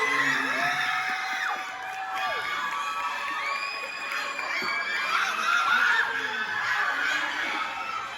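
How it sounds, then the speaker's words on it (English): A crowd cheers and shouts with bursts of laughter and excited voices at a student poetry and K-pop showcase, a loud, steady wall of sound that holds for the whole stretch. "Give a big round of applause for Alana and our groupies."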